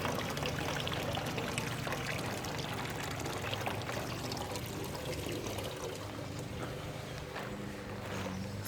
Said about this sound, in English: I need to add a little bit more water to this fountain.